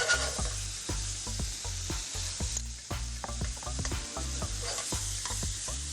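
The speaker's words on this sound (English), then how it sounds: "make sure the shrimp is cooked all the way inside" Jumbo black tiger prawns fry in a hot pan, a steady loud sizzle broken by rapid repeated scraping and stirring strokes, close and continuous without talk.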